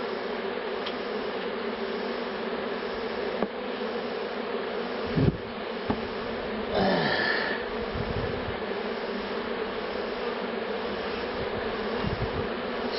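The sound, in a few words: honey bee swarm buzzing around new comb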